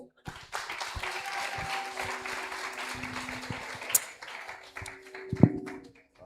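Audience at a community hero awards ceremony applauds, a sustained wash of many hands clapping through a hall microphone, moderately loud with a few sharp knocks and a brief ping.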